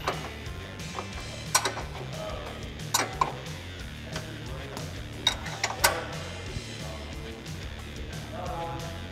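A spindle nut is tightened on the front suspension of a 2005-2010 Ford Mustang, with a few scattered metallic ratchet clicks and clanks over steady garage background noise, close by.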